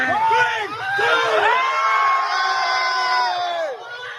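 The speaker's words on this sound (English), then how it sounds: "The kids in the crowd, they're just going wild over this." A crowd of kids cheers and screams wildly at a 73-year-old man's 50-foot cliff jump into water, shrill whoops and shouts rising and falling in continuous loud waves.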